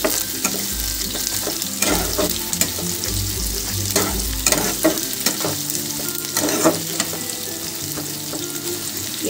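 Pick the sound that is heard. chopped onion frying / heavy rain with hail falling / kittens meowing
chopped onion frying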